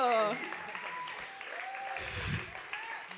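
Audience applause for Jefferson at the AHK Eindwerkprijzen 2021 award ceremony, a steady wash of clapping under voices and a brief spoken exclamation at the start.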